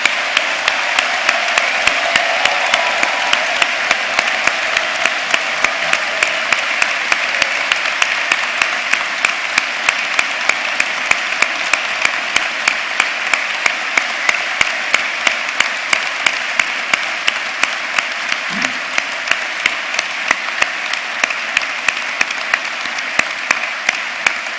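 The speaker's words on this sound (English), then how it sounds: "I'd now like to invite the whole congregation to give a round of applause for all our new graduates" A congregation at a graduation ceremony applauds the new graduates, loud, dense and sustained clapping from a large crowd that carries on steadily for a long stretch with no voices.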